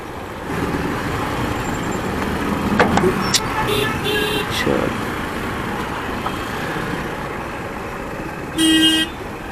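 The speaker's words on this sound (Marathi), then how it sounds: "आता ट्रॅफिक आहे तर आहे, काय करणार त्याला" Busy traffic on the Nashik highway, heard from a motorbike: a loud continuous rush of engines and road noise, with several horn toots, including one long blast near the end.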